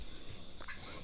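A farm-raised female turkey in heat calls once in a short gobbling burst, close and fairly clear over a low background hum, with no talk.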